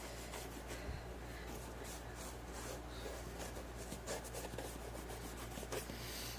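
Leather seams being cleaned by rubbing with a towel after mildew removal, a soft steady scrubbing texture running throughout at close range against low background hum.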